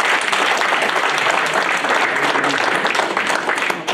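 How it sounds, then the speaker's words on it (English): An audience at a Wisconsin Chamber of Commerce legislative breakfast applauds elected officials, producing dense, loud, continuous clapping for about four seconds. "you deserve a round of applause."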